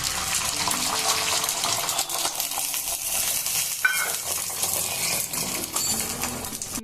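An egg frying in a pan for an egg toast breakfast gives a steady, bright sizzle and spatter throughout, with a few faint clinks.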